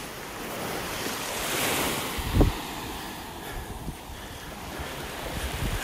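Surf rolling onto a beach in North Naples, Florida on a morning walk, a constant wash of waves with wind buffeting the microphone and one brief louder thump partway through.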